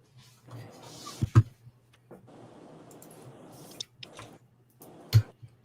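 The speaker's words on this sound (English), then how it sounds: "I'm eating Indian food. I had to get up to get another naan because I didn't have enough." Close, quiet chewing while eating Indian food with naan, with soft squishy bites and a couple of sharp clicks between pauses of near silence.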